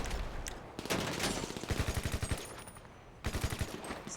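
Heavy automatic gunfire from big guns in GTA Online, rapid bursts of loud close shots in a steady rhythm, pausing briefly before another burst.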